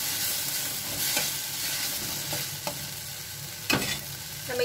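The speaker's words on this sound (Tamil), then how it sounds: "அதையும் இதில் சேர்த்து நல்லா வதக்கிக்கோங்க." Steady sizzling of ginger and garlic sautéing in a pan, with occasional scrapes and clinks of a utensil stirring.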